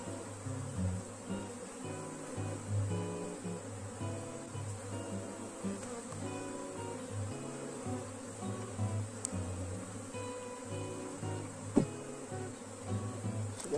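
Honey bees buzzing steadily at an open beehive during a beekeeper's inspection, a dense close drone of many wings with a few brief clicks and no talk.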